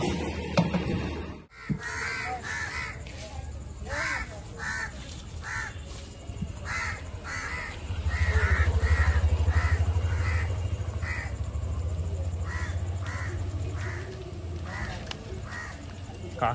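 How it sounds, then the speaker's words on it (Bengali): Many crows caw overhead in a rapid string of harsh, repeated calls, loud and near, over a low outdoor rumble, with people talking now and then. "এত কাক উপরে।"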